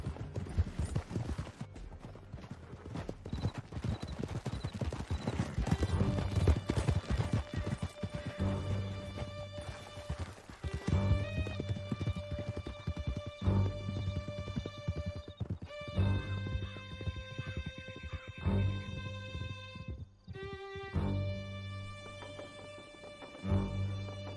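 Horses gallop in Red Dead Redemption 2, a rapid, continuous clip-clop of hooves with occasional whinnies, running beneath swelling orchestral music throughout.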